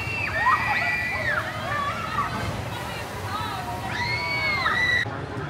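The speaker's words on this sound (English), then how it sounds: "A lot of screams on this boat." Many riders scream together in rising and falling waves on a big rocking Viking swinging boat ride at Worlds of Fun, Kansas City, swelling twice over a steady crowd rumble and background noise.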